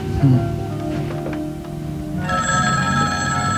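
A telephone bell rings steadily in an indoor scene from a 1986 comedy, a bright continuous trill that grows louder midway and carries on alone with no talking.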